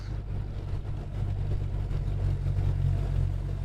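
A 1967 Chevrolet Camaro muscle car engine rumbles steadily with a deep, loud idle and light revving as it draws nearer, growing a little louder over a few seconds with no talking.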